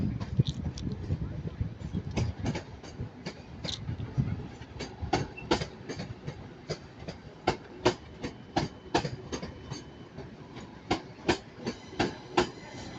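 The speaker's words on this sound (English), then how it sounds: "arriving now is going to be a Northern 323, whereby 323 203 doing this one" A Northern class 323 electric train pulling into Manchester Piccadilly station, its wheels clicking rhythmically over rail joints as it rolls past close by, the clacks growing sharper and more regular toward the end, with faint talk in the background.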